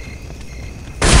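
HE grenade exploding in Counter-Strike: Condition Zero, a single loud, sudden blast that bursts in after a quieter stretch of background game ambience.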